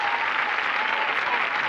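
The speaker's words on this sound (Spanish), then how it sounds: "¡Fuerte el aplauso para el señor!" Studio audience applause for a game show contestant who just won a prize, a continuous dense roar of clapping held at an even, loud level throughout.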